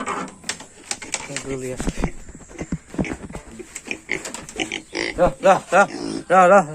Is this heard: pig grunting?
yes